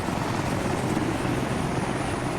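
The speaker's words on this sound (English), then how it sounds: "In the Ghost Hawk, which is apparently a stealth chopper, even though it's insanely loud." Ghost Hawk stealth helicopter in the Arma 3 video game landing at a forward operating base, giving a loud, steady, close rotor-and-turbine roar that fills the whole stretch with no talk.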